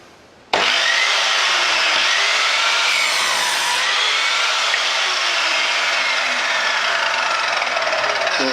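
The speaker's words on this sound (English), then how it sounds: "So hopefully you see that cut through the wood." An Evolution R210CMS mitre saw cuts through an old, clamped piece of wood: a sharp start, then a loud, steady, high whine of the blade biting through the timber for several seconds, close by and with no voices.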